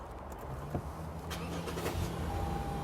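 A 2013 Lexus GS 350 F Sport engine cranks and catches, then settles into a steady low idle rumble, close by and fairly loud.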